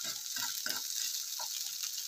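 Mushrooms frying in oil while being stirred: a faint, continuous hiss of sizzling, with soft scraping strokes of the spoon at irregular intervals, close by and with no voices.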